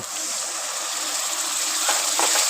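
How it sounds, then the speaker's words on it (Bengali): Water from rinsing a spice bowl is poured into a hot pan of frying spices, giving a steady hissing, gushing sizzle with a couple of brief clatters near the end. "মশলার বাটি ধোয়া জলটা দিয়ে দেব"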